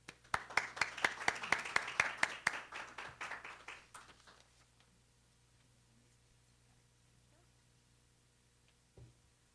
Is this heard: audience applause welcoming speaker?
yes